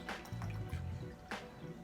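Coconut water poured into a blender for a hydrating fruit smoothie, a soft liquid trickle and dribble with a couple of brief splashy bursts, close and fairly quiet.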